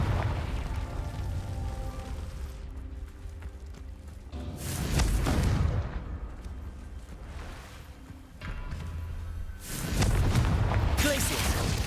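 Confringo blasting spell in Hogwarts Legacy going off in several booming bursts, each swelling into a broad roar, over continuous game music and ambience.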